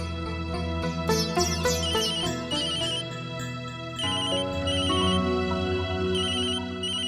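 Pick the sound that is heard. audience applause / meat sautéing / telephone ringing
telephone ringing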